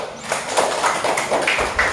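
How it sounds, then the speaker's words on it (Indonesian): Students clapping their hands together in a classroom, a short burst of fairly quiet, moderately dense claps lasting a couple of seconds. "Oke, tepuk tangan dulu."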